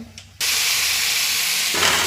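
A sudden loud sizzle erupts as chopped broad beans drop into a hot oil tempering, then keeps hissing steadily for a couple of seconds.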